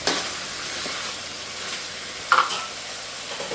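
Broad beans (chikkudukaya) fry in a pan, giving a steady close sizzle with a brief louder burst of stirring or spattering partway through.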